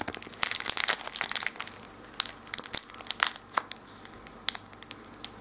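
Polymer clay wrapped in foil is broken apart by hand, producing close, crisp crinkling and crunching of the foil in quick irregular bursts, louder at first and then sparser.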